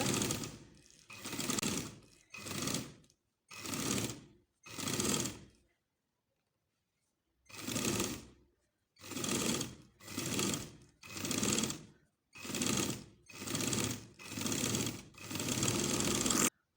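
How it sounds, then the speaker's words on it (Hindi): A sewing machine stitches a baby frock in a series of short whirring bursts, with a long pause partway through and then quicker runs near the end, close and clear with no talking. "अब ये मैं इसकी बाहर वाली सिलाई लगाऊंगी।"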